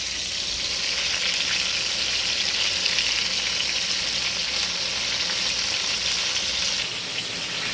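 Meat searing in a hot pan gives a steady, close, even sizzle and crackle that runs unbroken throughout, with no talking.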